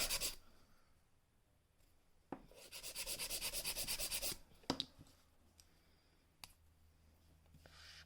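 Filing an acrylic gel nail: a burst of fast, rhythmic rasping strokes, close and fairly loud, with quieter scratchy rubbing and a few sharp clicks before and after.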